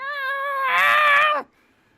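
A person imitates a cat's meow, one drawn-out whiny mew rising then cutting off abruptly, clear and close, followed by quiet.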